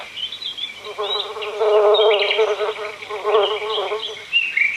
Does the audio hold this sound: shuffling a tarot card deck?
no